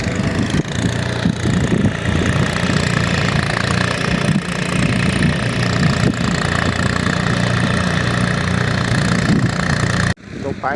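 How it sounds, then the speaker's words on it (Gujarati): A tractor engine drones steadily and close by in a farm field where land is being levelled and ploughed, a continuous unbroken throb that cuts off abruptly near the end. "ખેતરમાં 2 ટ્રેક્ટર ફરે છે"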